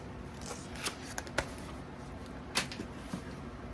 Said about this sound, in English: So we're going to tear this one open.